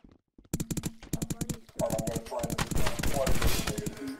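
Rapid bursts of automatic gunfire from the Rec Room video game crackle close and fast after a brief silence, rolling on in steady volleys with voices mixed in.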